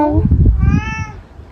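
A cat meows once with a rising, drawn-out call, heard close at a stop on a 2025 tour of Taiwan, with people talking under and around it.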